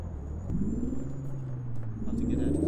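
A heavy truck engine in American Truck Simulator rumbles steadily while being shifted into fourth of eighteen gears, its low drone rising in pitch twice as revs climb, with a hiss near the start and no talk.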